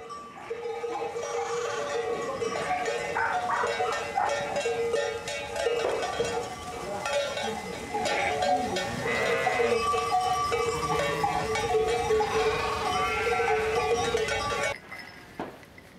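Sheep bleat repeatedly at a family farm during sheep shearing, many overlapping calls at varied distances over a steady background of farm activity and metallic clinks, continuing throughout.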